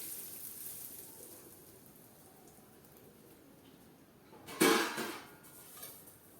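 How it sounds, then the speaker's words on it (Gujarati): Hot tempering of oil, fenugreek, carom seeds and asafoetida poured over raw mango relish gives a brief, bright sizzling burst midway. Quiet kitchen background surrounds it and fades after. "આ વઘારને આપણે ઉપર રેડી દેશું"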